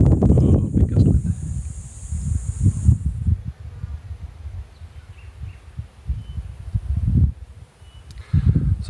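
A strong gust of wind outdoors rushes through leaves and branches in a steady, rumbling roar that swells and fades over several seconds, with no one speaking.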